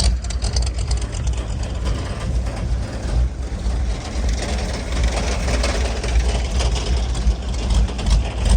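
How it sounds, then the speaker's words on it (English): A Ford 351 Windsor V8 with a leaky carburetor runs steadily just after a cold start, a loud, continuous low rumble with a rough, lopey idle that never lets up. "that started a lot easier than I was expecting, but it is a 351 Windsor"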